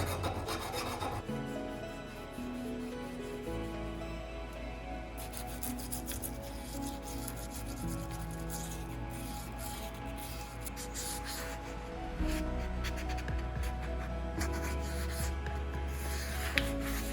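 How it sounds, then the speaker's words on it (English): Deburring rough edges on Rockwell Delta table saw parts during a restoration produces a continuous close scraping rasp over a steady low mechanical hum throughout. "Also made sure to deburr all of the rough edges."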